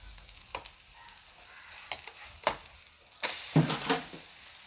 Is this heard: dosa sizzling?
yes